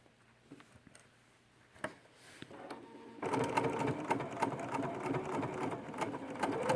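A Bernina 71 sewing machine stitches a quilt binding, starting with scattered faint clicks and handling noises, then running in a steady, close, rapid mechanical chatter for the last few seconds.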